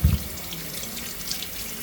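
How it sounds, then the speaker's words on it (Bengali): Raw mangoes being washed and soaked under a running tap in a sink, a steady rushing stream of water with a brief low bump at the start, close and continuous, no talking. "আম দুটো এবার ধুয়ে জলে ভিজিয়ে দিই"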